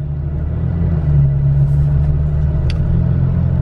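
A Toyota Tacoma truck drives on an open road, giving a steady, loud low engine and road rumble throughout, with one brief faint high tick near the end.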